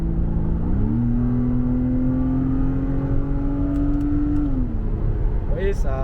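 A Porsche 987 Boxster engine heard from inside the car as it accelerates, a steady droning note that climbs, holds, then drops as the revs fall, with a low road rumble throughout and a brief voice near the end.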